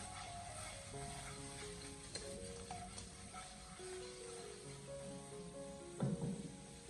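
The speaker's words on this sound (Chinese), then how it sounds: "我们给它持续的翻炒一小会，给它翻炒均匀" Sea bass pieces tossed with ginger, scallion and rice wine in a hot wok, giving a steady close sizzle and spatter with occasional clinks of the spatula and a louder scrape near the end.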